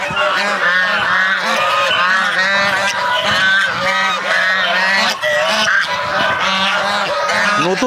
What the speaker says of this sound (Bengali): আমাদের রাজহাঁস